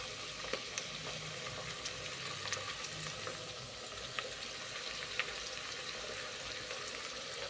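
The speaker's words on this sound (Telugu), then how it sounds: "ఉల్లిపాయలు ఫ్రై అయిన తర్వాత పచ్చిమిర్చి ముక్కలను ఆయిల్లోకి వేసుకోండి." Green chilli pieces and chopped onions fry in hot oil for a village-style aloo kurma, a steady soft sizzle with occasional stirring clicks, fairly quiet and close, with no voices.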